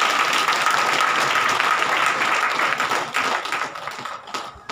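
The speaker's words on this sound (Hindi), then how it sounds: "ताली बजा के प्रभु का" A church congregation claps in praise, a loud dense burst of applause that gradually thins and fades out toward the end.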